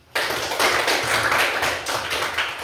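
Students applaud together in a classroom after a group presentation, producing a sustained burst of dense, fairly loud clapping that runs for a couple of seconds with no voices over it.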